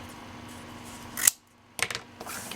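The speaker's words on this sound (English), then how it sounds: "let me just cut this off of there so I can cut this out." Scissors cut fabric for vintage-style fabric flowers, two quick crisp snips close by, with quiet room noise between them and no talking.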